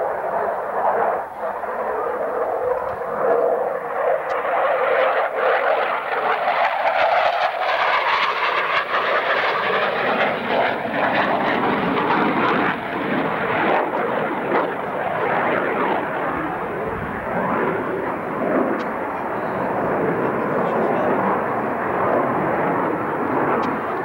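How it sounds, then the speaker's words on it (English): An airplane flying aerobatic maneuvers at a 1989 air show in London, Ontario, its engine roaring loud and steady, swelling and shifting in pitch as it rolls and sweeps past for over twenty seconds. "Let's watch as he shows how this airplane can really be slapped around."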